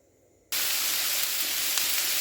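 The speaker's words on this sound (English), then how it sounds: "onion is softening, jackfruit is sizzling away" Jackfruit and onion sizzling in a pan for a barbecue jackfruit burrito, a loud steady hiss of frying that starts suddenly after a brief quiet moment and continues evenly.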